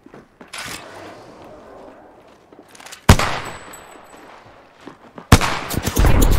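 Apex Legends gunfire, with sharp loud gunshots cracking at irregular intervals, two especially hard bursts standing out over quieter game noise.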